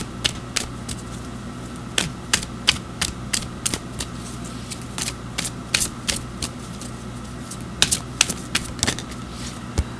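Oracle cards are shuffled by hand, giving a run of quick, sharp riffling snaps and clicks in irregular bursts. The sound is close and crisp over a faint background hum.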